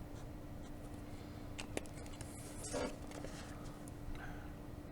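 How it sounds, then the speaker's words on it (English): Faint marker scratches while drawing triangles on Easter eggs, soft scribbling strokes with a brief louder rub over low room hum. "let's draw some triangles on our eggs"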